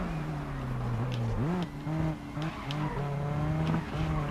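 A race car in GRID Legends brakes into a corner, its engine note dropping and rising through gear changes with short tire squeals, close and loud without talk.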